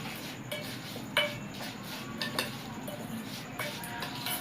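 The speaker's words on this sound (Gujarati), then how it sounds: "આપણે તેલ જે ગરમ નાખીએ એને આપણે આમ બધું મિક્સ કરી નાખશું" Hot oil poured over spices for a traditional Gujarati gunda pickle and stirred together in a metal pan, with steady scraping, light clinks of a spoon against the vessel and a soft sizzle throughout, close and fairly quiet.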